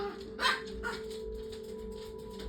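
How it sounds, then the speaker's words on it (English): A dog barks indoors during a spoken reading, two short barks close together early on, set against a steady electrical hum and faint room noise. "my dog's barking"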